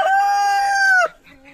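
A Valdarno rooster and a Bantam rooster crow on a rural hillside property, one loud, close, sustained crow lasting about a second before it breaks off, followed by faint clucking.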